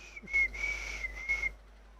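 A person whistling the Planet Coaster video game theme from inside a bathroom, a thin steady melodic tone with a few short pauses, moderately faint and heard alone.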